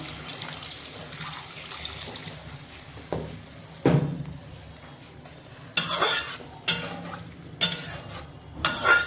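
Fish curry being stirred in a pan with a spoon, with scattered scrapes and clinks against the pan, several sharper knocks toward the end, over a low steady background and no talk.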